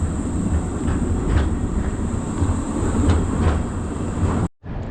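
A tram rumbles past close by on a street in Prague, with a steady rolling roar, faint rhythmic clacks of wheels and a high whine, cutting off abruptly at the end.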